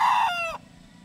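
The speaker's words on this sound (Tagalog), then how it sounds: "So ito, isang Boston na broodstag." A young Boston broodstag rooster gives one short, close crow, a bright strained call that rises and then breaks off abruptly into quiet background.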